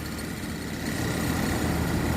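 A Suzuki Carry multicab's 660cc F6A 12-valve carbureted engine idles close by, a steady low rumble with a faint vibrating hum and no other sounds.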